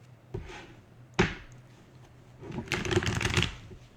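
Tarot cards being shuffled up close: two quick riffling flicks followed by a longer, busier burst of cards fluttering together.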